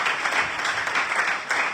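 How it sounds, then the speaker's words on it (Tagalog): Church congregation clapping together during a service, a short dense burst of applause at moderate loudness with no speech over it. "Palakpak para sa Panginoon."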